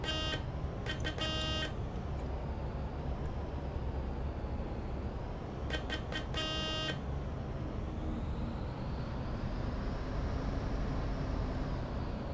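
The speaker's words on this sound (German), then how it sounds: "Ich habe gehört, man soll hupen, wenn sie sich hier festfahren." A bus horn in Bus Simulator 18 blares in two pairs of short, loud honks over a steady engine and traffic rumble, with no talk.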